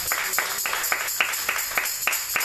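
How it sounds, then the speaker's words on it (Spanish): Church audience claps in a sparse, rhythmic pattern, with about nine distinct claps at a steady beat over a low room murmur. "Denle un fuerte aplauso."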